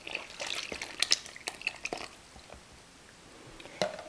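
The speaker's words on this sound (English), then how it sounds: "And stir all together." Wet and dry ingredients for carrot cake batter are stirred together in a bowl, giving soft, close, irregular wet scraping and sloshing sounds, quiet overall with a few sharper clicks.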